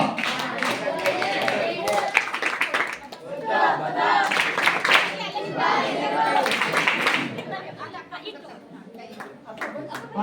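At a lavish birthday celebration for a child, an audience claps in bursts of applause mixed with crowd chatter and children's voices, while someone speaks loudly over the noise.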